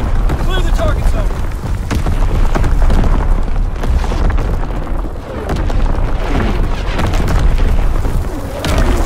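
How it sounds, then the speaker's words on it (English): Enemy mortar and artillery shells explode in Call of Duty WW2 gameplay, making a dense, continuous roar of heavy booms and rumbling blasts that stays loud throughout, with game voices calling out over the barrage. "Enemy mortar fire incoming!"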